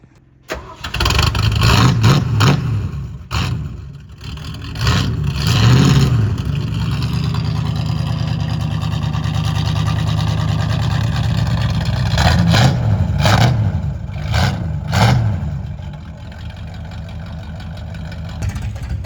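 A restored 1979 Ford Bronco engine in the snow runs with a low, loping rumble, punctuated by several sharp revs early on and again near the end, loud and close, with no talking.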